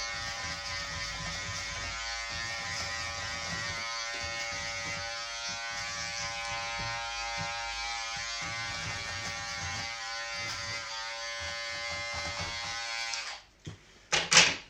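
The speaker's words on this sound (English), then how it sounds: "Okay, I might use my trimmer now." A close, steady electric hair trimmer buzzes during a men's haircut, humming continuously, then cuts off near the end, followed by a few brief handling clunks.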